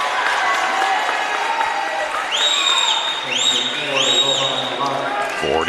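A home crowd at a high school basketball game between West Salem and North Medford roars steadily, with whistles and squeaking shoes cutting through the loud, continuous cheer.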